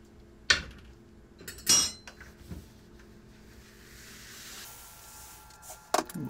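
Malt grains, rye included, being stirred into mash water in a pot while brewing a rye IPA, with sharp clinks and taps of the utensil against the vessel spaced across a quiet background.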